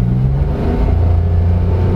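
A loud, close engine of a 2022 Mitsubishi Mirage G4 three-cylinder car with CVT drones and rumbles steadily, with a low throaty pitch rising slightly as it accelerates.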